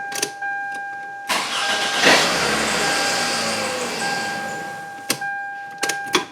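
A Toyota Solara engine cranks, catches and runs briefly before cutting out, with a fault in its fuel pump power. The close, mid-pitched start rises, holds for a few seconds and fades, and sharp clicks follow.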